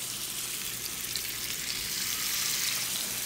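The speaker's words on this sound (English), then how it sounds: "I prefer to keep them in the pan, and we'll baste them as they're cooking" Steaks sizzle and fry steadily in a pan while being basted, a close, continuous crackling hiss with no pauses and no voices.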